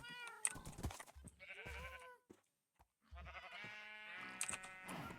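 Sheep in the Minecraft video game bleat repeatedly, several overlapping calls close by with a brief silent gap midway, no speech.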